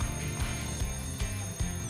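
A cartoon alarm clock rings in steady, repeated bursts, loud and close, with a regular pulsing rhythm throughout.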